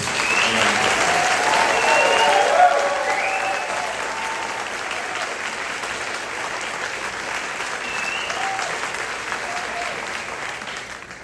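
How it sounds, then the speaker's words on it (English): Sustained audience applause for award finalists at an evening awards ceremony, strongest in the first few seconds and then settling into a steady, slightly softer clapping that carries on for over ten seconds. "please give our finalists a round of applause"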